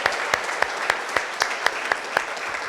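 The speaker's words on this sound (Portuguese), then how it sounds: "pode aplaudir Jesus bem forte" A church congregation claps during a worship service, with a regular rhythmic beat of loud, sharp, unison claps repeating about every quarter second, set against a room-filling wash of softer applause.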